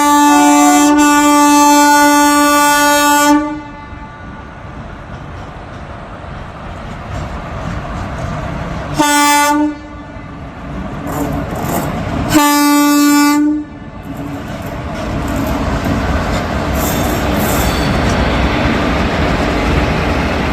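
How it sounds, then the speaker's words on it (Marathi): A loud, sustained train horn blares as the Karnataka Express leaves Solapur railway station, then the heavy rumble of the passing train continues, broken by two more short horn blasts. "KK एक्सप्रेस कर्नाटका एक्सप्रेस जी नवी दिल्लीकडे चाललेली आहे ती रेल्वे आपण पाहू शकता"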